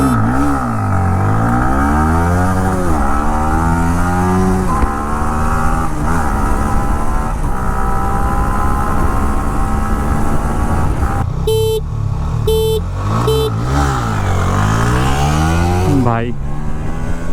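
A Yamaha MT-15 BS4 motorcycle and an Ola S1 Pro electric scooter drag race, with a loud, steady engine drone rising and falling in pitch through repeated gear shifts, plus a few short horn-like tones near the end.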